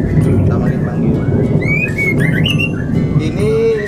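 A female magpie robin calls from its cage, bright chirps and squawky whistles rising over dense background chatter and steady noise, close and fairly loud.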